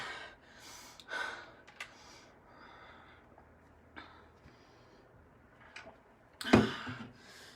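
Heavy, gasping breaths and sighs come after a hard core and strength exercise interval, close and fairly quiet, with one sharp, louder exhale near the end during the rest period.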